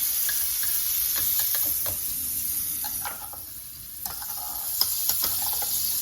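Butter sizzles steadily in a hot waffle iron, a continuous close hiss with a few faint ticks and small pops scattered through it.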